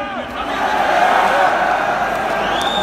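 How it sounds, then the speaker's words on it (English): A concert crowd at a show yelling in unison, a dense, loud roar of many voices rising and holding steady for a few seconds, heard up close from within the audience. "I want everybody to yell, "War.""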